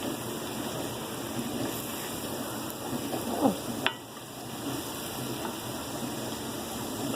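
Sausage scramble sizzles and fries in a pan as it is stirred, a soft, steady crackle with a few scraping clinks of a utensil against the pan.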